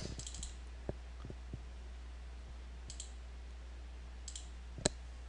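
A few faint, sharp computer mouse clicks land sparsely over a quiet background hum, spaced irregularly across a few seconds.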